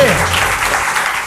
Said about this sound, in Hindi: श्वेता के लिए ग्रामर का किताब आता हुआ एक जोरदार ताली होनी चाहिए।